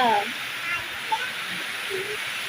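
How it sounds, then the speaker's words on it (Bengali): Steady broadband rushing of rain, like a heavy downpour with storm, heard from a balcony, continuous throughout with a brief voice at the start and faint sounds in between. "কি ঝকাশ কি বৃষ্টি"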